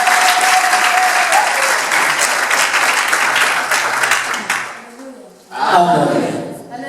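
An audience breaks into loud, sustained applause at a school gathering, dense clapping that fades out, pauses briefly, then swells again near the end.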